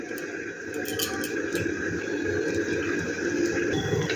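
Water is poured into a bowl holding two spoons of cornflour, with a steady close trickle and splash going on for several seconds, and no talking.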